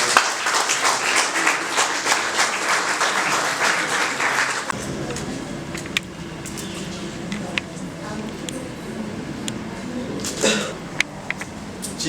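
A crowd at an engagement ceremony claps in a dense burst of applause that fades after a few seconds, followed by scattered claps and speech.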